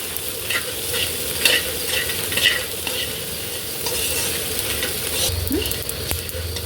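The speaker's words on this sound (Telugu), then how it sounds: "ఇవన్నీ వేగిపోయినాయండి." Spices tempering in hot oil for a gongura and sesame pickle, with jaggery nearby, make a steady close sizzle and crackle throughout, with light stirring scrapes and a few louder clinks.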